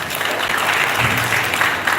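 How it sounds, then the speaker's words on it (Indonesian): Brief burst of audience applause at a live gathering, a dense, loud clapping crowd filling the room, steady for the whole moment without speech over it. "kita beri tepuk tangan"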